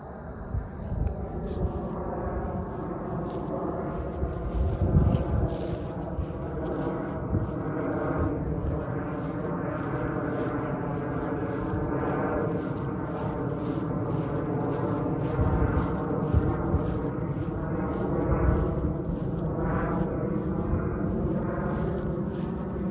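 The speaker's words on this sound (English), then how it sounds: "Not another plane. Please, not another plane." An airplane flies overhead outdoors near trees, a broad, steady engine roar that swells and lingers for over twenty seconds, with insects chirping faintly and a person speaking now and then.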